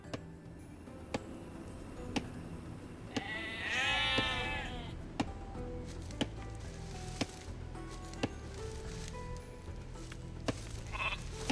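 Sheep in the game Age of Empires II bleat once, a wavering mid-clip call heard against quiet background music with regular soft ticks and a faint second bleat near the end.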